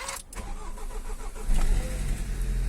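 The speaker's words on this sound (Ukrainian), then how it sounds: "Машинка завелася, трошки важкувато, але завелася." A car engine with a three-year-old Varta AGM battery cranks with some effort on a mild +10 °C day, then catches and settles into a loud, steady idle.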